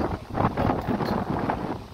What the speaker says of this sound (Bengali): আর অনেক হাওয়া দিচ্ছে, এই দেখো গাছ টাছ অনেক হাওয়া দিচ্ছে।